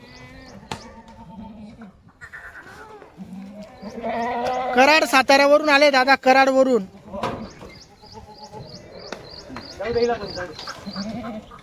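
Kathiawadi goats bleat repeatedly, with a burst of loud, wavering bleats in the middle, while someone talks nearby throughout.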